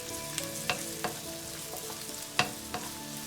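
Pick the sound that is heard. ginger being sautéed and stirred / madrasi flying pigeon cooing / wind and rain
ginger being sautéed and stirred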